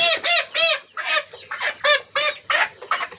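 A small chicken clucks and squawks in a rapid run of loud, close bursts after being caught, with short gaps between calls and no voices.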